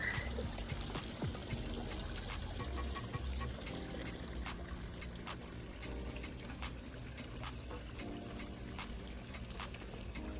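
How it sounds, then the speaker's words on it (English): Water trickles steadily through a garden water feature, a continuous close wash of running and splashing water with small drips, with no talk heard. "But the sound of moving water, it does something to make you relax"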